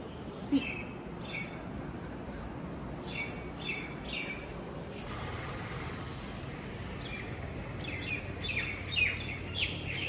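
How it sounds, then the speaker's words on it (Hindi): Small birds chirp in short bursts of high, quick tweets, some near and some farther off, over a low hum of distant traffic. "जब ऐसे चिड़िया की आवाज़ आती है चीची चीची करने की"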